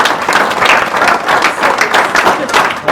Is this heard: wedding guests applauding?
yes